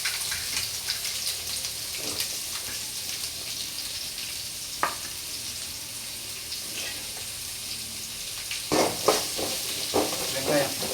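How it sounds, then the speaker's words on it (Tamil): Onions sizzle and fry in a pan with cardamom and green chillies, a steady soft crackle broken by occasional stirring scrapes, close and fairly quiet. "வெங்காயம் வதங்கிட்டோம் ஓகேங்களா"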